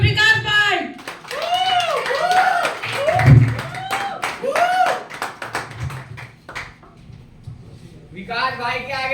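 Hand clapping at an open mic poetry and storytelling gathering comes as a run of sharp claps mixed with overlapping talk and voices, with the claps thinning out toward the end.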